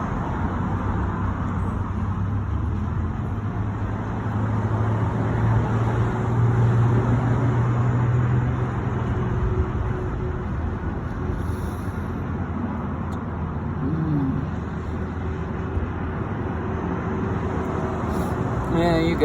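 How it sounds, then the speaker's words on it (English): Heavy road traffic roars continuously on a busy street with pedestrians about, a dense low rumble of passing cars and larger vehicles that swells and eases, with someone talking over it throughout. "it's real loud and lots of dang traffic, lots of foot traffic"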